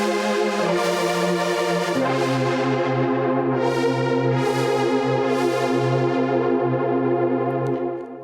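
The discoDSP Corona software synth plays its factory preset Pad Trans JP: a lush, sustained chordal pad with slow sweeping filter swells that rise and fall over about eight seconds, alone and without speech.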